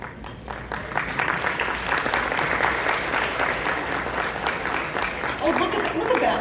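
Sustained audience applause from a large crowd at a Muslim community gathering in a rotunda, a dense steady clapping that holds at full strength for several seconds with some voices mixed in.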